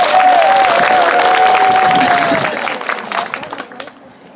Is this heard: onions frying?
no